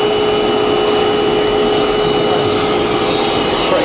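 Vacuum cleaner (hoover) running steadily during a plumbing job, a loud, continuous roar with a constant whine and no change in level throughout.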